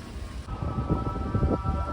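Rain falls during a visit to a historic palace, a steady soft hiss with light patter over a low outdoor rumble.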